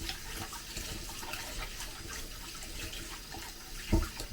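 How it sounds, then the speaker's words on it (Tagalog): Tap water runs steadily into a sink while rice is washed at home, a continuous close splashing hiss with a brief louder splash near the end and no talking. "Limang beses ko kasi hinugasan mga kabrat itong ating bigas"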